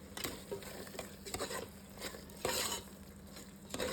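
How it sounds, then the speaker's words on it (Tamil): A spoon scrapes and stirs a veg biryani masala mixture in a pan in quiet, irregular strokes, with a faint sizzle and occasional soft clinks beneath. "நல்லா மிக்ஸ் பண்ணிகிட்டே இருங்க."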